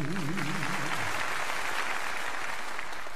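An audience at the North Sea Jazz Festival in 1987 applauds, a dense and steady wash of clapping from a large crowd throughout, with a singer's sustained voice heard briefly at the start.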